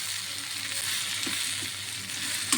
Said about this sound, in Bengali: বাদামটিকে দিয়ে একটু নেড়ে চেড়ে নেব।